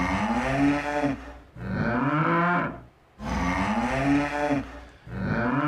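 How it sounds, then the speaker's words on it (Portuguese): Cattle mooing in long, loud, close calls, two drawn-out bellowing moos in a row with a short pause between, no talk. "Eita, que hoje tem mugido pra todo lado."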